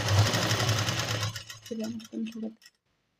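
A sewing machine runs steadily for about a second and a half while stitching the lining of a sleeve, then stops and starts in two short bursts before falling silent. It sounds close and fairly loud.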